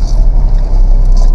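A small car strains against a very steep hill in Bogotá, its engine laboring loudly and close, a steady low rumble that sags and wavers as it stalls partway up the climb.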